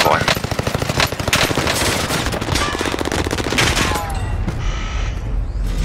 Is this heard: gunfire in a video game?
yes